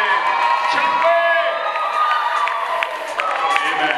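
Guests at a church wedding ceremony in a Nairobi community centre break into loud cheering and high ululating whoops right after a prayer, a lively crowd close by with voices mixed in.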